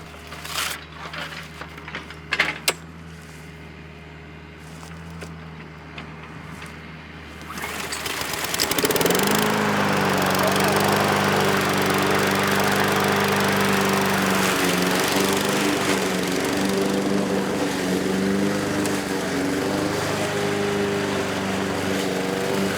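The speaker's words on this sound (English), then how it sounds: "I wonder if the vibration from the lawnmower is gonna make my arm swell even more" A lawnmower engine starts after a few seconds of quiet handling noise, then runs loud and steady at close range, humming on without a break.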